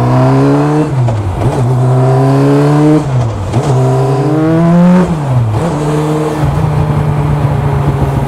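A Campagna T-Rex three-wheeler engine revs hard while accelerating in second gear, a loud close rising growl that climbs in pitch in repeated pulls between quick shifts.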